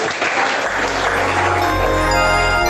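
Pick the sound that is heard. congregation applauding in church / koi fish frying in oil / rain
congregation applauding in church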